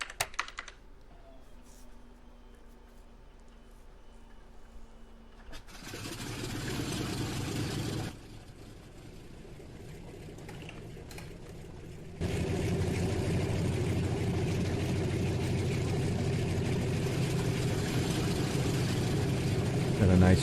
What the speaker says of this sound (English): And then if we start the engines,